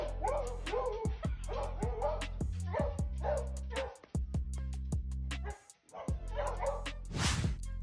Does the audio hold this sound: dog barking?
yes